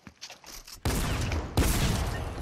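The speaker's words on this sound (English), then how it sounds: "Who's shooting at me?" Fortnite gunfire on a Nuketown-style map, bursts of shots and blasts opening abruptly and continuing densely, loud and close, with a second sharp onset partway through.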